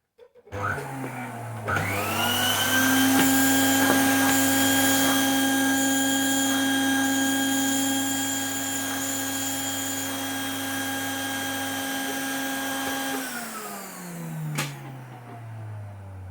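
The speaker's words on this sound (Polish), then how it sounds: "Teraz przejdziemy do testu odkurzenia." A Predom Zelmer type 168 vacuum cleaner spins up with a rising whine, runs loud and steady with a bright motor tone during a carpet test, then winds down as it switches off, with no talk.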